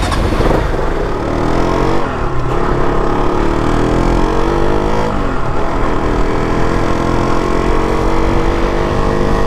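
A KTM motorcycle engine while riding on the road, a loud continuous drone with shifting pitch as the revs rise and fall, steady throughout with heavy wind rush.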